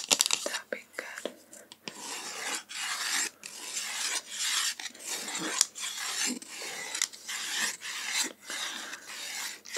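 Scratching on a textured surface in an ASMR guessing game, close and intimate, with irregular bursts of rasping strokes separated by short pauses, heard alone without talk.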